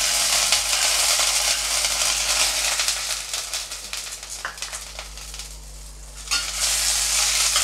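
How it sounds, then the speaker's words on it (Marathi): Wet green peas hit hot oil in a kadhai with a loud, continuous hiss and crackle that dips briefly, then picks up again, with no voices over it. "कढईमध्ये गरम करायला ठेवली होती कढई। हे बघा, तर त्याच्यामध्ये मटार आपण टाकणार आहोत।"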